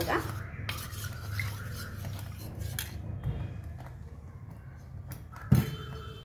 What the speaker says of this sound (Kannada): ಇವಾಗ ನಾನು ಬೆಲ್ಲದ ಪಾಕನ ಇದಕ್ಕೆ ಹಾಕ್ತಾ ಇದ್ದೀನಿ.